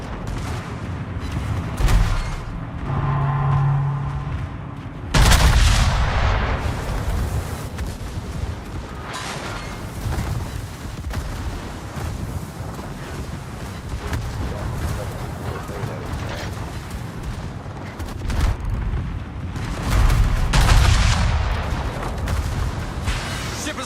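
Naval gunfire in the World of Warships video game, with heavy booming salvos breaking out at intervals over a dense, rumbling battle soundscape, and voices faintly audible in the mix.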